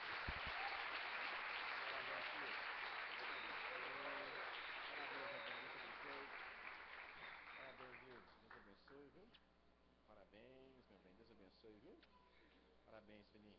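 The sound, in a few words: church congregation applause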